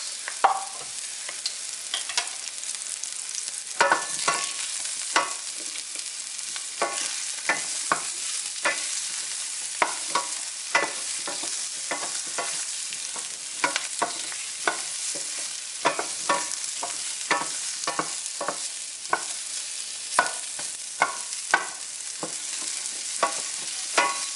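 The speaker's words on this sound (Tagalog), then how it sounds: "Ngayon, igisa na natin bawang sibuyas," Garlic and onion sauté in a pan for a Kapampangan home dish under a constant bright sizzle. Frequent scraping stirs and taps of the spatula punctuate it throughout, close and clear, with no talk.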